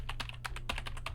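Fast, steady typing on a computer keyboard: close, crisp key clicks in an uneven rhythm over a low background hum, with no talking.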